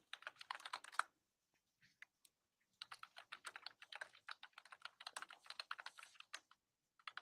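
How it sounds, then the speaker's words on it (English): Computer keyboard typing carries faintly through a livestream, coming in rapid clattering bursts with a short pause in the middle. No one speaks. "I don't know why we're hearing typing."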